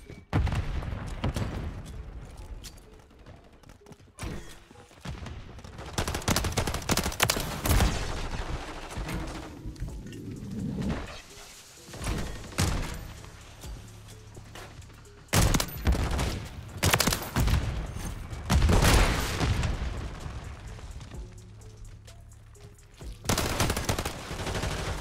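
Repeated gunfire in a first-person shooter match with a longbow sniper class, sharp shots and bursts scattered throughout, some close and loud, others in quick clusters, with no talking.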